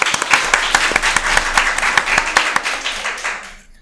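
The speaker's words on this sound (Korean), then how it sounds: "박수로 맞이해주세요." Audience clapping in a studio setting, a quick burst of hand claps from a small group, close and fairly loud, tapering off at the end.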